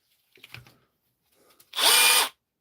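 A power drill in ordinary drill mode (not chisel mode) whirs loudly for about half a second close by, after a few faint knocks and rustles.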